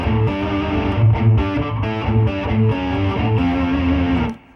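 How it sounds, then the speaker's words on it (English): An electric guitar with distortion played on the bridge pickup chugs out a loud, gritty riff of short repeated chords and notes, fading out abruptly at the end. "You might throw on some distortion, go to your bridge pickup like we talked about"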